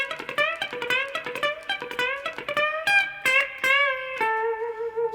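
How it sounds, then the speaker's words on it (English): An electric guitar plays a country blues lick with crisp picked notes, choppy palm-muted attacks and quick bends, ending on a sustained note. "this one's going to involve more of a picked kind of muting sound"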